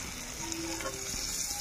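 Chicken pieces sizzle steadily in a hot pan, a continuous close frying hiss with faint crackles and no pauses.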